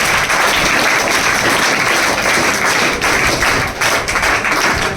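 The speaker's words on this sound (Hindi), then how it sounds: "उसके लिए ताली हो जाए" An audience applauds at a ceremony honouring students selected from a coaching class, a dense, continuous round of clapping that stays loud and close for the full length.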